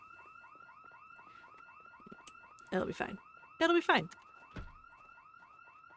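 A building alarm in the video game Project Zomboid rings steadily throughout with a repeating electronic warble, while a person speaks over it and louder thumps and clatter break in near the middle.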